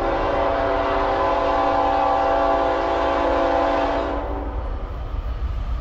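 A loud, sustained Norfolk Southern freight train horn blares for about four seconds, then cuts off, leaving the low rumble of the passing autorack train in South Plainfield, New Jersey.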